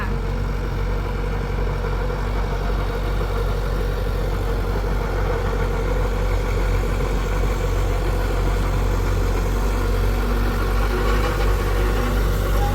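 A steady, rumbling engine of a tracked, raised pesticide sprayer vehicle idling nearby, with a constant low hum and no change in pace throughout.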